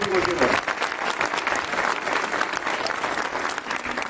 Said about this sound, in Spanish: fuerte el aplauso para la familia de Domingo